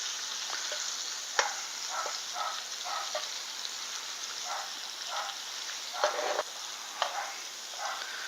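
Shrimp frying in garlic butter in a pan, a steady close sizzle with scattered sharp pops and crackles throughout, no talking.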